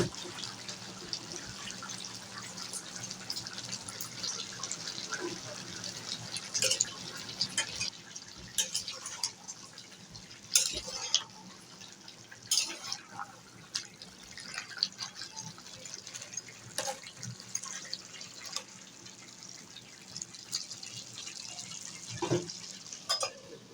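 Beef is stirred in a cooking pot while chui jhal is added, giving soft, intermittent wet scraping and sizzling clicks at low volume, steady and close throughout.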